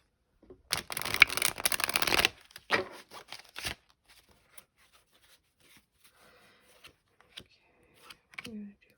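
Oracle and tarot cards being shuffled by hand, a dense riffling burst up close followed by a few shorter rustles and soft handling sounds, with light talk in between.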